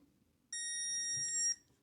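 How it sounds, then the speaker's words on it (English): One sustained high electronic beep from MODOFO electric pruning shears on a long press, about a second long, sounding alone against a quiet background. "the beep"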